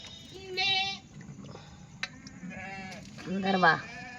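Two or three sheep bleat in a pen during rain, wavering calls at moderate distance, with faint talk and light background noise between them.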